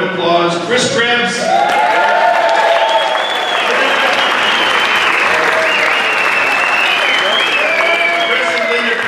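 An audience applauds a show organizer at a concert, loud dense clapping with cheers and whoops rising over it, and a voice speaking briefly at the start.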